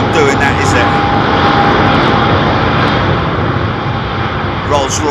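A loud, steady jet roar from an airliner powered by Rolls-Royce Trent XWB engines at Heathrow, sustained and close, with a voice talking over the engine noise.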